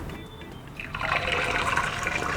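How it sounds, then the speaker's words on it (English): An egg cracked into hot oil in a pan while cooking a quick Asian dinner; a bright, hissing sizzle rises suddenly about one second in and spatters steadily, close and fairly loud, with no talk. "You should hear that sizzle straight away"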